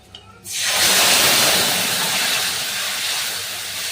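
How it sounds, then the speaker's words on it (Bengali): A spice paste of green chilli, poppy seed, whole cumin and ginger hits a hot pan with turmeric and salt for a hilsa curry, bursting into a loud, sudden sizzle that hisses on steadily and eases slightly. "আর এখন আমি পেস্ট করে রাখা মশলাটাও দিয়ে দেবো"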